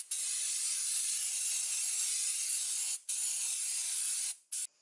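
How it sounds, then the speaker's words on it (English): Brake cleaner sprays onto a brake disc in a steady close hiss that runs almost continuously, broken by two short pauses near the end. "So what we're going to do is just use a bit of brake cleaner."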